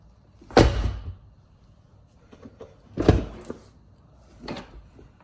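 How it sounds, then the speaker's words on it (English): A couple of solid thuds of a Tesla Model 3 door shutting, each followed by brief rattles, with a softer third knock afterward; no talking. "Close the door."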